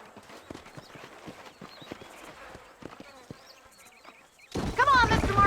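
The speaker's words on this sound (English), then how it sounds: "These are fine horses." Horse hooves clip-clop at a steady walking rhythm in the Red Dead Redemption video game, with scattered insect-like buzzing, before a loud burst of voice or other noise cuts in at the end.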